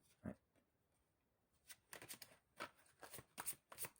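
Tarot cards being shuffled by hand in a quiet room: a single soft riffle, a pause, then a run of crisp, papery flicks and slaps in quick uneven bursts, close and fairly faint.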